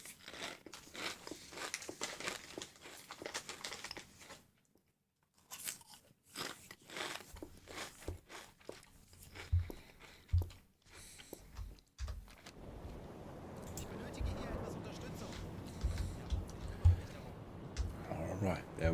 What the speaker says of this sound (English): if I do molest you with a bit of munching noise for now